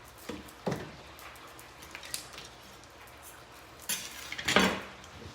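Slightly wilted small green apples are chopped with a knife for cabbage soup, giving a few scattered, faint knocks and scrapes of the blade on a board at irregular intervals, with a louder clatter near the end.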